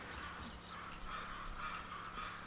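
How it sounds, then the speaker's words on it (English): Crows cawing near a forest clearing, a run of harsh repeated calls over steady background noise, moderately distant and fairly even in level. "You can hear the crows going ha ha ha."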